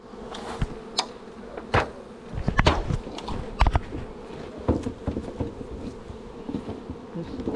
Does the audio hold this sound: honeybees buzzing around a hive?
yes